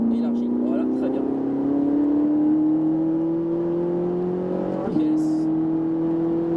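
A Ferrari 458 Italia accelerates hard on the Ferté Gaucher race circuit, its loud, steadily rising engine note climbing without a break until a quick gear change near the end, after which it keeps pulling.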